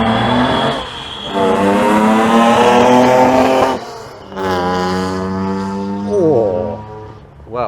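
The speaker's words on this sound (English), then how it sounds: "now we've got a Datsun 240Z Super Samurai" A modified, rare Datsun 240Z Super Samurai revs hard at Goodwood Motor Circuit, with loud rising engine notes through several gear pulls, a short lift between bursts and a final sharp blip, close by.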